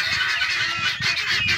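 Farm-raised geese about three months old honk in a pen, a loud overlapping chorus of nasal calls repeating in quick irregular bursts, close to the microphone, with no talking.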